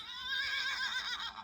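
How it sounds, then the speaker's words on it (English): A horse neighs in a single drawn-out, wavering whinny heard up close and fairly loud, with no talking over it. "neigh, as horses do."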